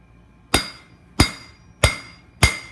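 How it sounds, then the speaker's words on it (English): Four sharp, ringing hammer blows on an anvil edge while cold forging aluminum, evenly spaced about two-thirds of a second apart, each with a short metallic decay, close and clear. "half off blows with the hammer in relation to the edge of the anvil"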